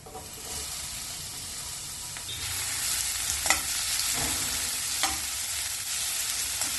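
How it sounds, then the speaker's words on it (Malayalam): Onion and chopped tomato sautéing and being stirred in a pan, a steady close sizzle with soft scraping strokes of the spoon now and then. "സവാള ലൈറ്റ് ബ്രൗൺ നിറാവുമ്പോൾ ഇതിലേക്ക് 1 തക്കാളി ചെറുതായി മുറിച്ച് ചേർത്ത് വഴറ്റാം."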